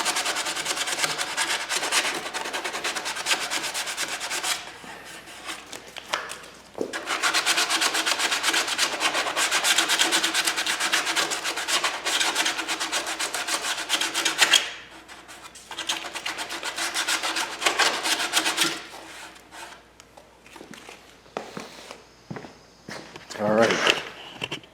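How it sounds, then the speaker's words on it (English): Sandpaper rasps in long back-and-forth bursts against the rough, fuzzy edges of a motorcycle tail light plate on a 2022 KLR 650, close and steady, with short pauses and a few scuffs between passes. "Still got some little fuzzies in there I need to sand off."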